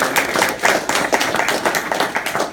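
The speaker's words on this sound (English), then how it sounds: "Big round of applause" Brief burst of audience clapping and applause at a business presentation, dense and close, rising and falling in quick waves.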